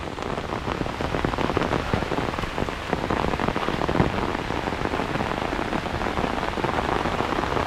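Heavy rain falls steadily outdoors, a dense, continuous hiss and patter on surfaces at a loud, even level with no voices.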